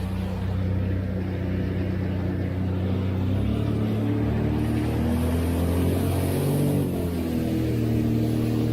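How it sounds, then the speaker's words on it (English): A Sea-Doo Spark jet ski engine runs continuously while being warmed up after a repair, a loud close drone whose pitch wavers and climbs slightly as it is revved, steady from start to finish. "You can get some temp up on the engine first."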